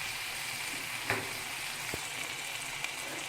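Tomatoes sauté in a pan for a Chettinad manathakkali kulambu, giving a steady, close, broadband sizzle with a couple of brief spoon scrapes and no talking.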